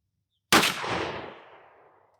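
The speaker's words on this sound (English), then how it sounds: "so let's take our shot and see what we get." A Remington 870 12-gauge shotgun fires a 3-inch Federal Black Cloud steel #2 shell: one sharp, loud blast followed by a long decaying echo.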